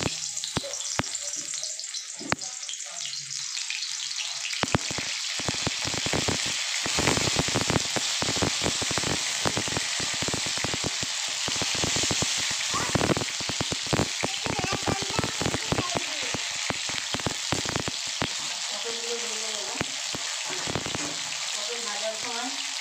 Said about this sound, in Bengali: আমি সবার প্রথমে পটলগুলোকে ভেজে নেব